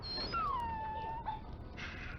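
Dog in Dragon Age Origins giving one long, drawn-out whimper that starts high and droops into a thin plaintive whine, near and quiet, with no talk.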